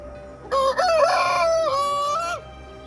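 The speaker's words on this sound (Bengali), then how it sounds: "মোরগ ডাকছে" A rooster crows once at morning in a Sikkim village, loud and close, a full drawn-out cock-a-doodle-doo standing alone against a quiet background.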